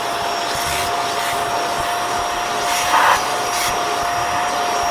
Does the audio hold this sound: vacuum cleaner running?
yes